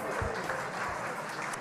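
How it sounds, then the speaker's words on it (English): Applause for the MC at a hotel industry awards and scholarship lunch. The clapping is soft and steady, heard from a distance across the room, with some voices mixed in. "Please give him a round of applause."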